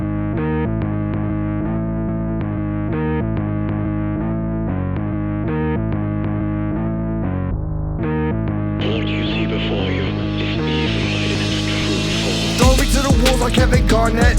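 Hip-hop track plays loudly: a thumping beat with a repeating bass and keyboard loop, which swells near the end into a brighter, denser wash with heavy effects.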